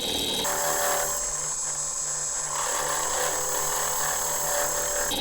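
A lathe tool cuts and scrapes a spinning Corian pen blank, producing a steady, loud, bright hissing whine with a constant motor hum underneath, close and unbroken, shifting slightly in tone midway.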